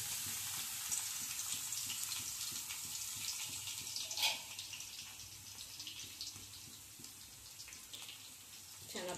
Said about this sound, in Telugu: ఆయిల్ కాగిందండి, ఎల్లుల్లిపాయలు వేసుకుందాం.